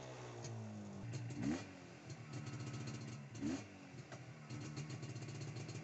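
A classic CZ Jawa motorcycle rides through the streets of Havana, its mid-pitched engine revving and clattering in repeated surges, fairly close, with traffic rumble underneath and no talk.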